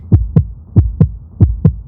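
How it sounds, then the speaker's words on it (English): A heartbeat sound effect of rising tension: three pairs of deep, loud lub-dub thumps in a steady rhythm, close and alone with no other sounds. "Aria could hear her heartbeat raise higher and higher"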